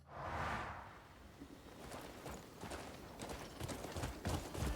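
Horse hooves clop along at a steady rhythm in the video game Crimson Desert, with a soft whoosh at the start and the footfalls growing slightly louder toward the end.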